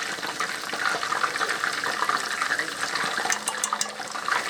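Fish deep frying in hot grease gives a steady, loud hiss with fine crackling pops running without pause and no voices.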